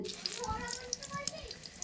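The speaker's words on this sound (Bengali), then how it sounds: "এখানে দেখো বেগুনটা ভাজি করে নেব তো দেখো তেলের মধ্যে এখানে ফুটন্ত তেল" Eggplant slices frying in boiling oil in a home kitchen, giving a steady close sizzle and crackle with a few brief louder pops and clatters throughout.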